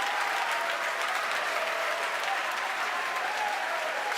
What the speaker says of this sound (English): if you can hear me over the cheering